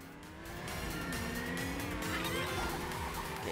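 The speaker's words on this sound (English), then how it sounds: "I am gonna get hit by a car." Mario Kart 8 Deluxe race on a moon cup course with car engines roaring and tires squealing as a kart skids past, a short burst of racing noise that swells after a quiet start.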